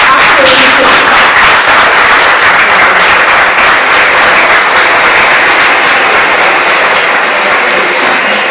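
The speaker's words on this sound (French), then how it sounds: "Applaudissez Madame Gandaro." Audience applause at an online seminar session, a dense, steady wash of many hands clapping that fills the whole stretch loudly with no pauses.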